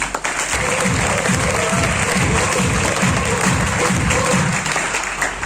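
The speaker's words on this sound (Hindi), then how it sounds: "जोरदार तालियां" Audience applause at a business training event, dense and continuous clapping from a large crowd that stays loud throughout.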